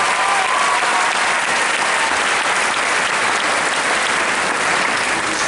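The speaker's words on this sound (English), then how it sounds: "Let's give yourself a round of applause" A crowd applauds steadily at an eighth-grade moving-up ceremony at Peekskill Middle School, a dense, sustained wash of many hands clapping at even loudness throughout.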